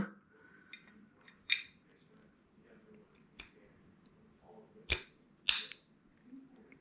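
A rifle barrel is fitted into an Odin chassis on a Niner build, giving a few sharp metallic clicks that are close but quiet, spread over a hushed workshop background.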